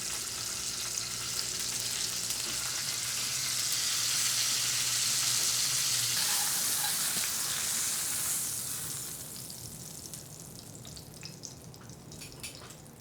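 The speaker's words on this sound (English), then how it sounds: "last thing we're going to do is sear off its fat cap" Steak stood on its side with its fat cap searing in a pan on a stovetop: a loud, dense sizzle that swells in the middle and then eases into quieter popping and crackling, close by, with no voices.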